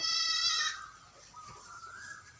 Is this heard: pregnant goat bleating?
yes